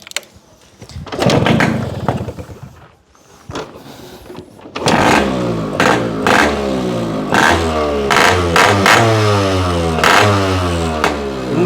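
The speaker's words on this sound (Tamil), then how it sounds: "இதனோட சவுண்டிங் கேளுங்க எப்படி இருக்குன்னு." A Yamaha RX100 two-stroke motorcycle engine, close and loud, with some clatter and handling noise at first, then a steady idle broken by repeated sharp throttle blips that rise and fall. No talking.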